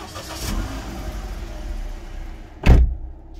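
A 1.3-litre Toyota Vitz in good used condition starts up: a steady low idle-like rumble gives way to a loud, brief burst of cranking and firing near the end, then settles into a quieter running hum.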